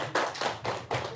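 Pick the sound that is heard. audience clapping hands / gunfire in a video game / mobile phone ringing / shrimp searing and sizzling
audience clapping hands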